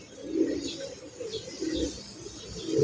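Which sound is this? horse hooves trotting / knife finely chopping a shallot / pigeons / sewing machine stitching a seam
pigeons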